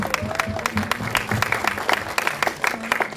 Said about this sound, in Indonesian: Boleh tepuk tangan sekali lagi teman-teman.